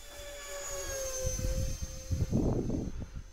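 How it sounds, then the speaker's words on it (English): A Habu 50mm electric ducted-fan RC jet passes overhead with a thin, sustained whine that slowly slides in pitch, joined midway by low buffeting rumbles of wind against the microphone. "This plane is so fun to fly."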